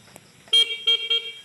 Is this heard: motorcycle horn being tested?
yes